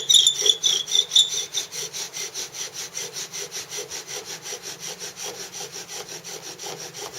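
A steady, rhythmic rasping and squeaking of a cottonwood bow drill spinning against wood in a through-hole board, back-and-forth strokes repeating quickly and evenly, with no talking.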